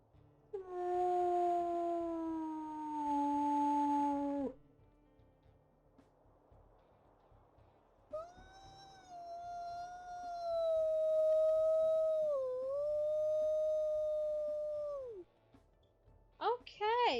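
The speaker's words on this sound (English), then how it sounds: "except for her primary howl, but still a very pretty voice for a very pretty little lady" Wolf howls from the video game WolfQuest: a long rising-then-falling howl, a pause, then a second extended wavering howl, loud and clear, with a brief higher call at the end.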